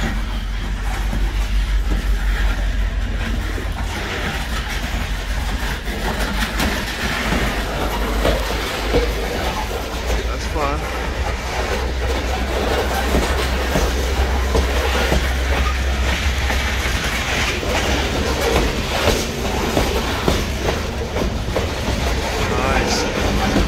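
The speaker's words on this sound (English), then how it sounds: "Looks like we're gonna get some train action here." A train passes by a station in winter in downtown Nampa, Idaho, as a steady loud rumble with rattling rail noise that lasts throughout, heard from close by and outdoors.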